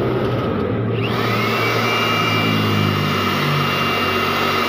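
A budget electric blower runs steadily at close range, a loud continuous whoosh with a motor hum that settles in after a brief change in its first second.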